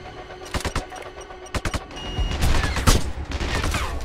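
Gunfire in the video game Sniper Ghost Warrior 2, set in a city on hard difficulty: sharp separate shots early on, then a dense, noisy exchange of fire that continues to the end, with no talking.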